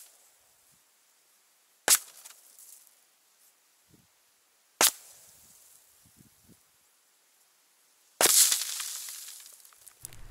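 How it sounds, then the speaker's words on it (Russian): Three sharp shotgun shots from a Saiga firing slugs with a Paradox choke, spaced a few seconds apart, each a loud crack, the last followed by a long rumbling decay; quiet outdoor ambience in between. "Для этого сделаем серию пристрелочных выстрелов"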